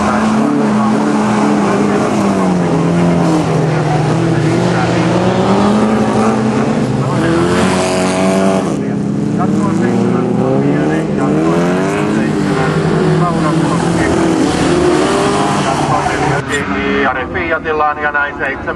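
Folk race (jokkis) cars roar past on a gravel or dirt track as a pack of seven starts, engines revving and rising in pitch, loud and close, with a Finnish commentator talking continuously over them.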